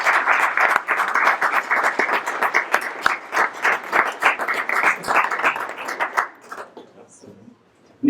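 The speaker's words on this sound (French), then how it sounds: "je propose qu'on les applaudisse" An audience at an evening business-creation award ceremony applauds the winners with loud, dense clapping for about six seconds, which then fades to near silence.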